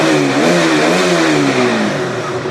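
A 2019 KTM Duke 200 ABS BS4 motorcycle engine runs close and loud, its single-cylinder drone rising and falling through a couple of revs before settling, with no speech.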